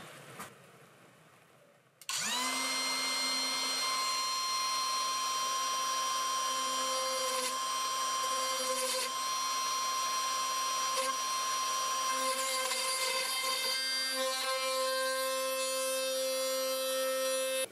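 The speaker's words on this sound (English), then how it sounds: "This is my first time turning on a router." A router switches on with a sharp start, then runs at a loud, steady high-pitched whine with shifting tones for over fifteen seconds, close by and with no speech.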